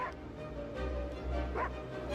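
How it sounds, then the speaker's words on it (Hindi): A dog barks and whimpers faintly in the background, with a bus approaching in the scene; the yips are soft and partly buried under steady low background noise, with no clear talk. "ये क्यों भौंक रहा है?"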